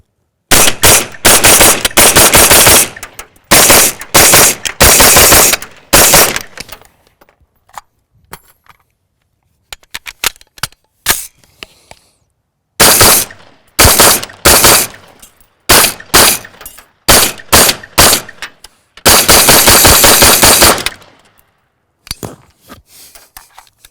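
A CMMG Banshee chambered in 5.7 fires loud, sharp bursts of rapid shots in several strings, each volley separated by brief silences, close and dominant with no talk.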